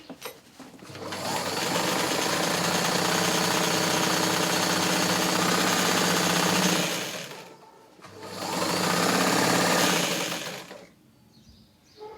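A sewing machine stitches in two long steady runs, a loud continuous mechanical whirr lasting several seconds, a brief pause, then a shorter burst before it stops.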